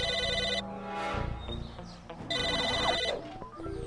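Telephone ring in the video game Psychonauts, two bursts of electronic ringing with game sounds and brief noises between them.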